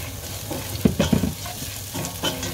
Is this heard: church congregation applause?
no